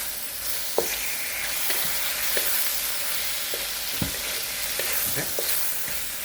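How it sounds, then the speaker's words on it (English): Steady loud sizzling of pork stir-frying in a hot wok, with repeated scraping and clanking of a spatula as the meat is stirred. "Always stir frying, making sure all the meat"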